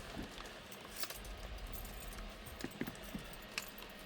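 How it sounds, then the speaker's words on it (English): Car keys jangle in the cabin of a 1962 Ford Thunderbird two-door hardtop, faint scattered metallic clinks and rattles over a quiet background, with no talking. "All right, get the keys in here"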